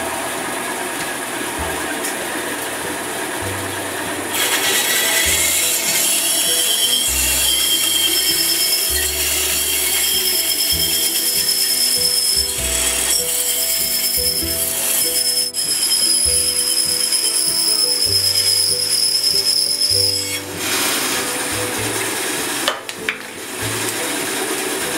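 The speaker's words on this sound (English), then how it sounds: "Now we're ready to cut it out on the bandsaw." Bandsaw running loud and close while cutting out a piece, a steady whining drone with shifting tones as the cut proceeds, continuing for over twenty seconds before easing near the end.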